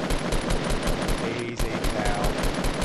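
Rapid automatic gunfire from a Fortnite duos match on PS4, loud and dense, with repeated sharp bursts rattling almost continuously and a brief spoken remark underneath.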